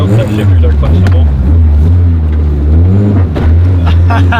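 Mitsubishi Evo 8 engine running on a dyno, a loud steady low drone that rises and falls as it revs, with shifting pitch through the run and talk mixed in.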